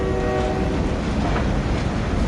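A train hauling logs rumbles past at close range down the middle of a street, a steady loud roar of rolling wheels with a horn tone sounding over it.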